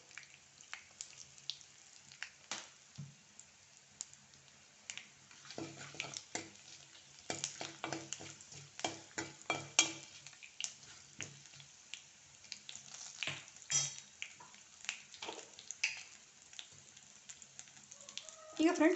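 Garlic fries on a low flame while being stirred in a pan for moringa drumstick-leaf dal, giving soft sizzling with frequent scraping and clinking stirs, quiet and close.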